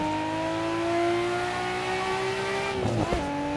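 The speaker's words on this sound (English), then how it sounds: "just listen to this car. It sounds so good." Nissan Skyline GT-R R34 engine in Assetto Corsa at the Nürburgring, a steady high-pitched drone holding a near-constant pitch, then a sudden drop and scrabbling burst near the end like a shift or brief tire chatter, close and loud with no talk.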